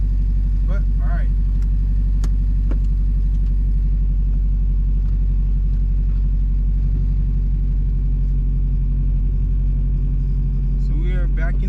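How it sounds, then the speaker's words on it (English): Car engine idling as the car backs out after a shifter change, a steady, close, loud low rumble with brief clicks and faint rustling over it. "So we are backing out now."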